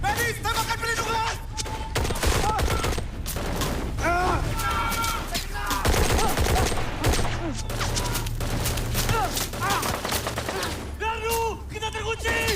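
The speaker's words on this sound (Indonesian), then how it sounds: "Medis, tembakan perlindungan!" Covering gunfire in a film battle scene, with rapid bursts of rifle and machine-gun shots crackling steadily over several seconds while voices shout and talk amid the din.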